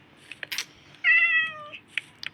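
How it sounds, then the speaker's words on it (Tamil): A cat gives one clear, drawn-out meow, close and fairly loud, in the middle of an otherwise quiet room with a few faint clicks and knocks before and after. "பூனை கத்துதுடா."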